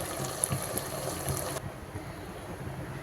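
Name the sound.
water being poured into chicken curry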